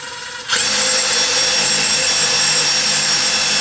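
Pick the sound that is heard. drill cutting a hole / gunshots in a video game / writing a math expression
drill cutting a hole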